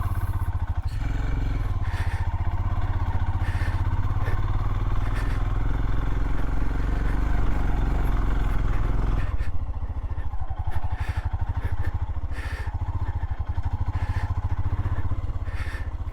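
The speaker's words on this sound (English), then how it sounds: "So right now I'm just riding in circles." Adventure motorcycle idling and riding slow circles on dirt in the Southern Utah canyon country, a steady low engine drone with some clatter and scraping, close and continuous throughout.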